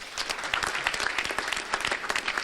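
A gathered audience at a political and religious coalition meeting breaks into applause, a crisp, somewhat distant crackle of many clapping hands with uneven surges, heard alone.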